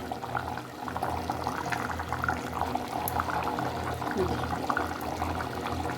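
Chana dal and capsicum kootu simmers in a pot, a steady mass of bubbling and popping at moderate volume with a low rumbling undertone throughout.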